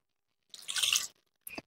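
Water poured in small amounts onto rubbed flour dough while kneading it by hand, giving a soft wet splash followed by a brief squelchy drip, close and quiet with no talk.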